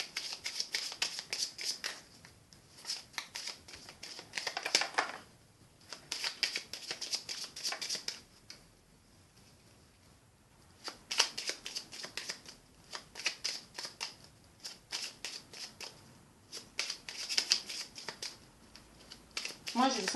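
Lenormand oracle cards shuffled in several bursts of dense papery riffling, separated by short quieter pauses, close and fairly loud, with no voices.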